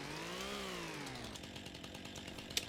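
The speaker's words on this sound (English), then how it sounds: "Jumping with a chainsaw is not recommended." Chainsaw in the Farming Simulator video game, its engine revving up and settling into a steady buzzing drone with some rattling and a sharp click near the end.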